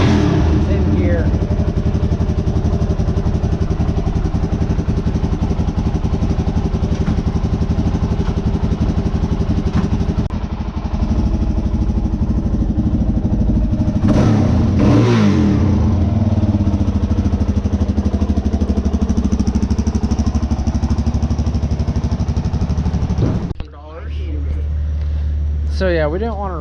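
A motorcycle engine idles with a steady close drone and rises briefly in revs while in gear, and people talk over it.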